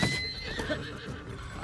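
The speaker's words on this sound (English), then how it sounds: "maybe using a horse kind of sucks" A horse in the Zelda: Tears of the Kingdom video game gives a short, loud whinny with clip-clop hoofbeats, heard up close.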